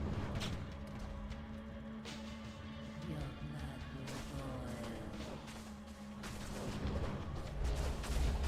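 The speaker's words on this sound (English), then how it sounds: "Okay, explosion." Dense rumbling explosion effects in the Project Diablo 2 video game, with repeated booms and crashes layered over a continuous roar of battle noise that swells toward the end.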